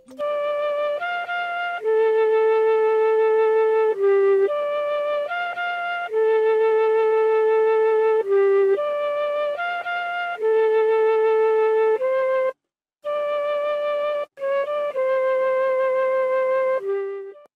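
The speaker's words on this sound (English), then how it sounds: "It's a flute melody and it sounds like this." A soft flute melody from the Strawberry Flutes Mellotron preset plays alone in a soul-style sample, with sustained tones moving in a slow phrase and brief gaps between notes.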